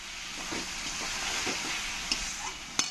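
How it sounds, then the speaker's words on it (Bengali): Spice paste for a rohu fish curry frying in oil as it is stirred, giving a steady broad sizzle with soft scraping strokes and two sharp clinks near the end. "এবার একবার ভালো করে আমি নেড়ে দেবো"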